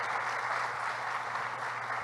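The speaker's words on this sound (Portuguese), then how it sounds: "Uma salva de palmas de Jesus pela vida de Mariovaldo" Steady clapping from a church congregation fills the whole stretch, a dense, even wash of applause with no voices rising above it.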